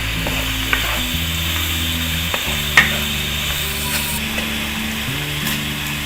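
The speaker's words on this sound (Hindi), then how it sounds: "इसको भूनना है हमने।" A moringa flower and qeema mixture with turmeric and salt fries in a pan while being stirred, loud steady sizzling with repeated scraping strokes and a few sharp clicks of the spoon.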